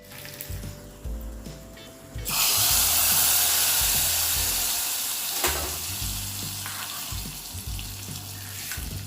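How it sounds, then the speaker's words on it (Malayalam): Hot tempering of onion, dried red chillies and curry leaves for a jackfruit-seed and mango curry cooked in a clay pot, a loud sudden sizzle that bursts in and fades slowly over clattering and stirring, close up. "ഉള്ളി മൂത്ത് കഴിയുമ്പോൾ അതിലേക്ക് കുറച്ച് വറ്റൽമുളകും കറിവേപ്പിലയും കൂടെ ഇട്ടിട്ട് നമുക്കിത് കറിയിലേക്ക്"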